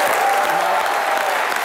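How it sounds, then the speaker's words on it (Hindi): Steady applause from a television comedy show studio audience, honoring cricketer Yuvraj Singh's mother Shabnam, fills the clip with dense, continuous clapping at a constant loud level, without a break. "उनके लिए भी जोरदार तालियां बनती हैं।"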